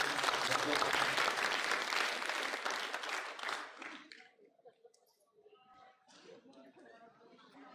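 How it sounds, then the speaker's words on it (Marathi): An audience at a religious gathering applauds loudly for about four seconds, then the clapping fades into scattered claps and murmuring in a large hall. "त्यांचं टाळ्या वाजून आपण अभिनंदन करूया"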